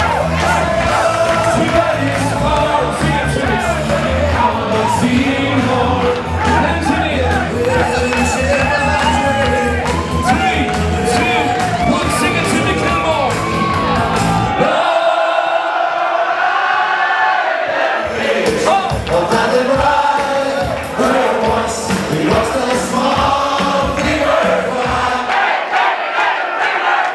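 A packed wedding crowd at the Hotel Kilmore in Cavan roars, cheers and yells continuously, loud and close, with a dense wall of shouting voices that barely lets up.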